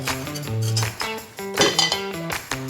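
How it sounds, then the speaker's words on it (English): A metal knife scraping and clinking around the edge of a cast iron skillet to loosen cornbread, a string of light, ringing metallic taps and scrapes close by. "get your knife and just kind of make sure it's loose like that"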